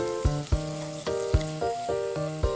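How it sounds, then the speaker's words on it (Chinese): Crayfish stir-fried in a wok with oyster sauce, chicken stock, scallions, garlic, ginger and green Sichuan peppercorn sauce, giving a steady sizzle beneath rhythmic, plucked-sounding musical notes that land about every half second. "倒入炸好的小龙虾"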